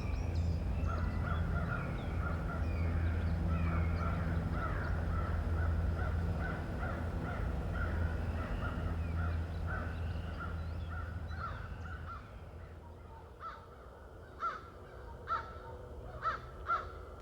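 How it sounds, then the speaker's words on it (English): Crows caw repeatedly in a rhythmic series while mobbing a great horned owl, their harsh calls carrying over a steady low rumble of background noise, growing sparser and more scattered toward the end. "Crows enjoy owl pestering as much as any bird"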